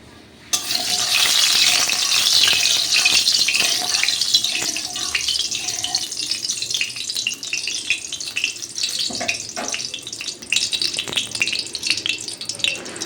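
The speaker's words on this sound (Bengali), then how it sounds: "কড়াইতে পর্যাপ্ত পরিমাণে তেল নিয়ে নিয়েছি তেলটা যেই গরম হবে" Oil heats in a wok, giving a continuous soft hiss and crackle that starts abruptly and carries on alone with scattered small clicks and pops.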